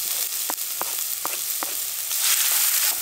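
Onion frying in a pan at a camp cookout, a steady bright sizzle with a few soft stirring taps, growing a little louder near the end, with no voices.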